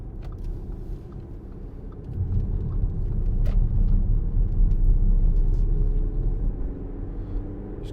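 A 2015 Audi Q5 2.0 TDI S line Plus quattro diesel accelerating on the road, its low engine rumble swelling and holding steady for several seconds before easing slightly, heard from inside the cabin.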